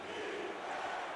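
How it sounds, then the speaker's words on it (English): Loud football stadium crowd in Buffalo, a steady roaring wash of massed voices with no break, close and dense. "Yeah, this crowd is loud here in Buffalo."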